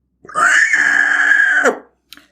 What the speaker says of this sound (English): the sound of inhuman shrieking was coming from the